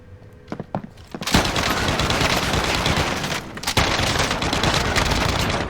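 Sustained, dense burst of automatic fire from a RAAL MG light machine gun in Call of Duty: Warzone, loud and close, preceded by a few scattered sharper shots and continuing almost unbroken with a brief dip midway.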